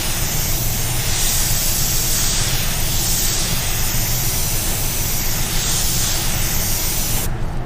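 Steady spray-gun hiss of paint being misted onto a painted panel, continuous and close, laying down small even coats with a brief cutoff near the end.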